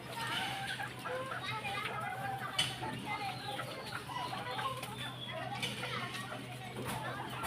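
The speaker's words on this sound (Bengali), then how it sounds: "দেখেন আমার মুরগিগুলো কীভাবে খাচ্ছে" Chickens cluck busily while feeding on paddy and wheat, many close overlapping clucks and scratchy calls over a steady low hum, with a voice talking underneath at times.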